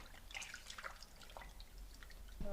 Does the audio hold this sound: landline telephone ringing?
no